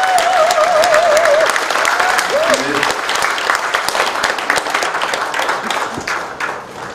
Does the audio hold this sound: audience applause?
yes